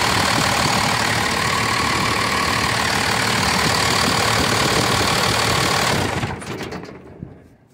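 A 1989 Dodge D250 turbo diesel truck engine idling with a loud, steady clattering rumble up close, then cutting off near the end as the sound drops away.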